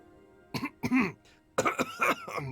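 A character in the video game Baizu's Story Quest coughs in two rough clusters, a couple of hacking coughs, a pause, then three or four more close together and fairly loud.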